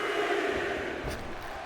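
A wrestling crowd in WWE 2K24 cheers in a steady, dense roar throughout, with no pauses.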